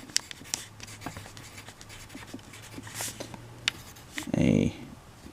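Pen scratching across paper in a quick series of short strokes, fairly close and soft, with a louder rubbing burst near the end; no one speaks.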